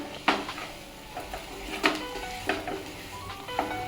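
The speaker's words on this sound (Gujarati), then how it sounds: "જો તમને સ્ટફિંગમાં બટાકાના આખા ટુકડા દેખાય તો ચમચાની મદદ વડે મેશ કરી લેવાના" A spoon working through boiled potato samosa stuffing in a pan, giving a few sharp scraping clinks against metal over soft faint squishing and low background hiss.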